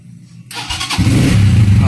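A car engine cranks and catches after a switch is flipped, a short starter whir rising into a steady, loud idle rumble near the listener.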